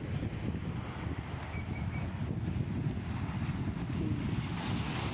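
Ocean waves washing against the breakwater at Cassino beach in Brazil, a continuous rushing surf mixed with steady wind noise on the microphone, with no speech.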